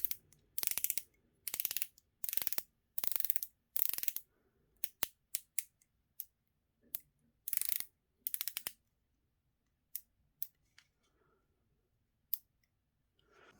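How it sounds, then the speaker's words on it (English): A thin aluminium 90-click dive-watch bezel is turned in short bursts, giving dense runs of tiny, close ratcheting clicks separated by brief pauses, followed by a few isolated single clicks. "Let's check out the bezel. I mentioned previously it is a 90 click bezel."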